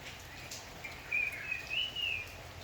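Bird calls woven into a Hindi film song: a few thin, high chirps and whistles rise over a soft, hissy musical bed, with no voices speaking.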